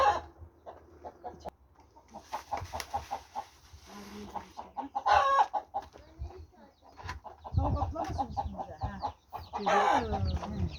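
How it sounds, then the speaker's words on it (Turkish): Small chicks chirp in a home yard with rapid, high peeps, some bursts louder and nearer, mixed with occasional voices talking over them. "Civcivlerim nerede hani?"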